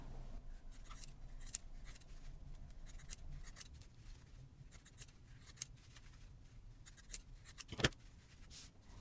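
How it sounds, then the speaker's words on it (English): Scissors trim the edges of a quilted no-sew fabric Easter egg with a string of quiet, irregular snips and small clicks, close by with no talking. "Now I'm going to go ahead and trim these up"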